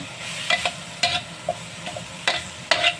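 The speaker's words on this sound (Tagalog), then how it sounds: "Para diyan ko naigisa yung aking pansit" Pancit canton mixed with sotanghon noodles sautéed in an unwashed wok: a soft background sizzle broken by sharp, irregular scraping and clacking of a utensil stirring the pan, close up and loud, with no talk.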